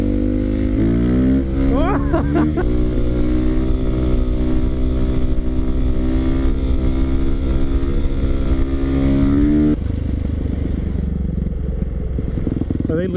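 A WR450 dirt bike accelerates hard through the gears, its engine note climbing in pitch with each shift before settling into a loud, sustained roar; a brief exclamation rises over the engine.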